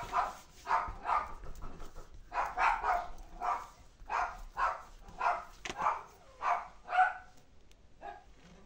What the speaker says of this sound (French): vous entendez mes chiens